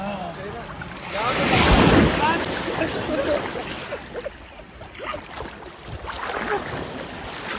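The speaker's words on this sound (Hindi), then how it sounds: "ये लहर छोटी आई है, खत्म हो गई। यहाँ पहुँचते कोई लहर बड़ी आती है।" Ocean waves surging and breaking on the shore, a loud rushing swell that peaks early and then fades into softer wash and wind, with someone talking over the surf.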